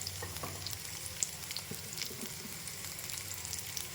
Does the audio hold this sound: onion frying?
yes